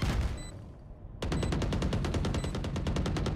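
Rapid automatic gunfire from a Valorant esports match, shots fired through a wall: a burst at the very start, a brief lull with faint background, then a loud, sustained run of evenly spaced shots until the end.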